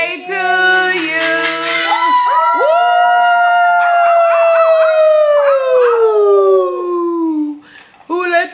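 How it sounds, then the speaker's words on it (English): A dog howls long and loud at a first birthday party, its wavering cry rising then sliding down while people cheer and shout around it. "Who let the dogs in?"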